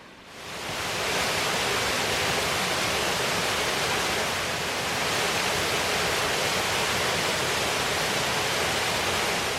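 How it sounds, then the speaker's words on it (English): A waterfall roars in a steady, dense rush of water that fills the whole clip without pause, loud and close. "here's Waterfall Number 2"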